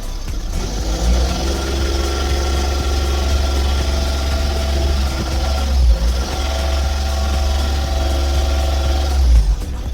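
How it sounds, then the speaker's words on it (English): A 2016 Ford Transit mk8 van with a diesel engine held at a steady low-rev drone, capped around 2000 rpm amid glowplug and fuel temperature sensor faults, loud and close, with slight swells near the middle and end. "Only revving to 2000 revs"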